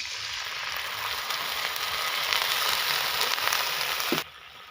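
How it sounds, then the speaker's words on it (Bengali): Seedal mixture poured into a wok with fried onion and chilli, giving a dense, continuous sizzle for about four seconds that cuts off abruptly, close and with no voices. "এখন এই শীতলটা কড়াইয়ের মধ্যে দিয়ে দেই।"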